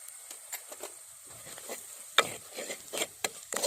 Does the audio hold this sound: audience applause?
no